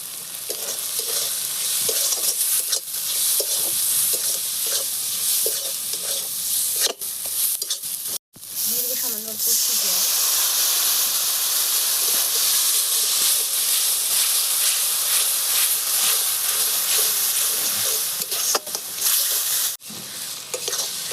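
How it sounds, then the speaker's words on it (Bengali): Ground spice masala with coriander, cumin, chilli and turmeric powders sizzles steadily in oil in a kadhai for a restaurant-style kadhai mushroom, with a continuous loud frying hiss and occasional stirring scrapes, no talk. "মশলাটা ভালো করে ভেজে নিচে দেখেন মশলার থেকে তেল ছেড়ে গেছে"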